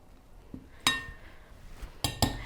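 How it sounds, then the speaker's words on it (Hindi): Spices being mixed into gram flour in a bowl, with a few sharp metallic clinks of a spoon against the bowl, close and sparse, separated by quiet stirring. "अब हम इसको अच्छे तरीके से मिक्स कर लेंगे।"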